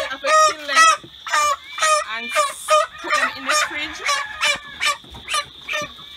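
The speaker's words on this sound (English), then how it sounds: "Oh, Miss Simsima is killing these chickens for her mukbang next week." Chickens squawk loudly and close by in a rapid series of harsh, repeated calls while being slaughtered, with short gaps between the bursts.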